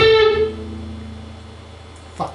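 An electric guitar plays part of a lick on the fourth string from a song. A note rings out strongly and slowly decays, and a faint tap follows near the end, with no talking.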